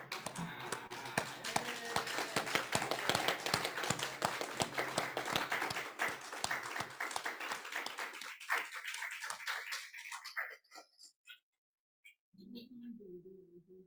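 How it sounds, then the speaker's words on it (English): A church congregation at a Sunday service claps steadily for about ten seconds, the applause tapering off before a brief voice enters at the end. "Please rise and applaud."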